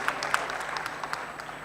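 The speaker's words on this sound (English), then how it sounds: "let's give a round of applause for African women who are making film and" Audience applause at an international film and TV market event, a short burst of dense clapping from a crowd, fairly soft and steady with a few sharper claps standing out.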